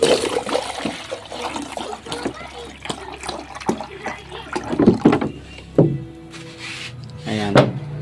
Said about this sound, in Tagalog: Pero ngayon natin, lagyan natin ng tubig.